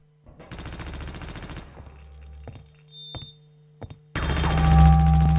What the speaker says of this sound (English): I didn't know that gun was that powerful.